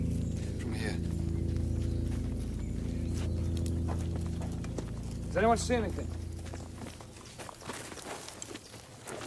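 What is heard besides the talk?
horsemen approaching, horse hooves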